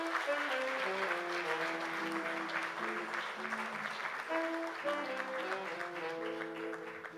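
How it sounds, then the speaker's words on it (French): Audience applause at the opening of a university ceremony in Gatineau, steady clapping throughout with sustained musical tones running underneath, fairly loud and continuous. "On l'applaudit."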